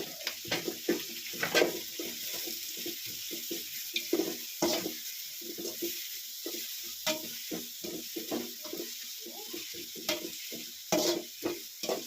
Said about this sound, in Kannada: ಈರುಳ್ಳಿ ಚೆನ್ನಾಗಿ ಫ್ರೈ ಆಗ್ತದೆ